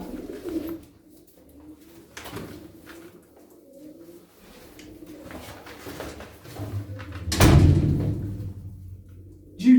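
Pigeons coo softly and repeatedly inside a coop being readied for winter, with low throaty calls close by and a dull thump partway through.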